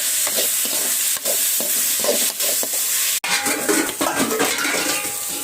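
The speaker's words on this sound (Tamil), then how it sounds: "இப்போ நல்லா வதக்கிக்கலாம்" Food sautéing in a pan with chili powder, stirred vigorously: a loud continuous sizzle with rhythmic scrapes and metal clinks of the utensil against the pan, and a brief sharp knock partway through.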